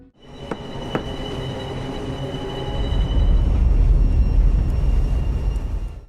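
Train running in a film scene, a continuous rumbling roar with clattering and a faint high whine, swelling louder and heavier about halfway through and holding steady to the end.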